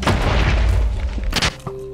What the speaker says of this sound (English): Okay, can we not with the explosions?